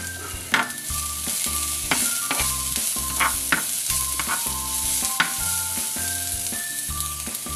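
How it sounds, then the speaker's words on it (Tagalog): Garlic and ginger sautéing in a pan for a green lentil stew: a steady close sizzle broken by repeated rhythmic scrapes and knocks of a spatula stirring against the pan, about a dozen strokes, no talking. "Magigisa na rin ako ng bawang."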